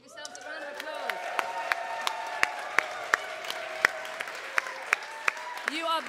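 Audience applause at a live concert at the Arnolfini in Bristol: scattered, distinct claps ring out over sustained tones from the stage, moderately quiet and roomy, rising at the end as the crowd joins in.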